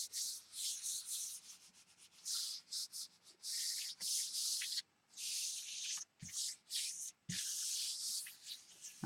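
Paper rubbed by hand over a Gelli printing plate, a close, dry brushing and scraping in repeated strokes with brief pauses, no talking.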